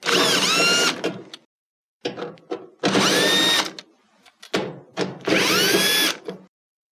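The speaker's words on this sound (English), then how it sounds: "To remove the console, we're going to take 3 screws out of the back panel." A power screwdriver or drill removes three screws from the back panel of a Whirlpool dryer, with three loud whirring bursts that rise in pitch, separated by short clicks and silences.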